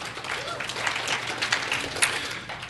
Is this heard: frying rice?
no